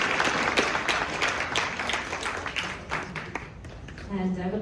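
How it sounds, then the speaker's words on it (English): An audience at a venture night panel in Barcelona applauds a departing panelist, steady clapping from a modest crowd lasting about four seconds before a voice begins. "let's give a round of applause to Oscar."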